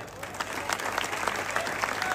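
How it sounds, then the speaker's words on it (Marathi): Faint crowd applause at an open-air wrestling ground, scattered claps spread across a distant audience over a steady background hum, brief and continuous without clear talk. "हा करा टाळ्या सर्वांनी."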